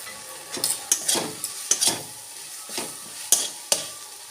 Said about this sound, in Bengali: এবার গুঁড়ো মশলা দিয়ে ভালো করে কষিয়ে নিয়ে